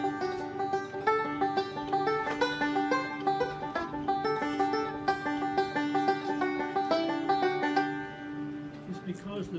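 A picking roll on a stringed instrument with a jumpy, uneven feel, dense plucked notes tumbling in a repeating cycle and ringing together, close and steady with no voices, tapering off at the end.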